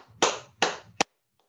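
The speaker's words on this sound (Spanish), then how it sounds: "Vamos a aplaudir." Three sharp claps from a children's song-time session, spaced roughly evenly and loud, each a crisp broadband slap with a short tail, followed by quiet.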